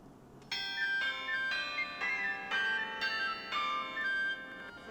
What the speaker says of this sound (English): So this is more of an activity where I'm just clicking on random bells to make a song.